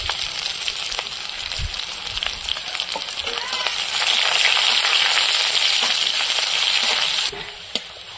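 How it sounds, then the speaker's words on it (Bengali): Chopped onion fries in hot oil with bay leaves and five-spice, a steady close crackling sizzle with occasional stirring clicks that swells louder midway, then drops sharply near the end, no talking. "পেঁয়াজটা ভাজা হয়ে গেছে"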